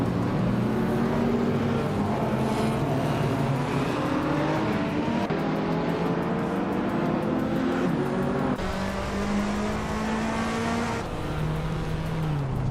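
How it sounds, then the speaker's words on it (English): Race cars in a racing video game, including a 1989 TVR Tuscan, roar continuously with rising and falling engine tones as several cars accelerate and pass, loud and without speech. "Budatsura is driving a 1989 TVR Tuscan, a car known for its lightweight and agility"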